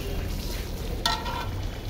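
Chicken pieces frying in a pan of cooked-down spice masala, a steady close sizzle with a brief sharper hiss burst partway through.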